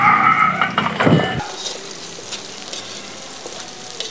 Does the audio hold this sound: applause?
no